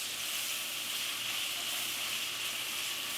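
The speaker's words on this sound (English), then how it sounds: "We're going to cook this for about 5 minutes, letting that onion caramelize a little bit." Onion frying in bacon fat, a dense, even, steady sizzle heard close and alone, unbroken for the whole span without stirring or talk.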